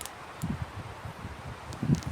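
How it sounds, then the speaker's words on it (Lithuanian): Forest trees rustle softly in the wind, a faint steady hush with a few slightly stronger gusts, no voices present. "Arba šis tiesiog miško ošimas. Medžių ošimas."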